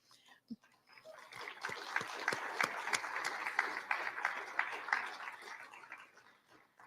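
Faint applause from a community forum audience in a high school facility, a soft patter of many hands rising after a few isolated claps and fading out at the end.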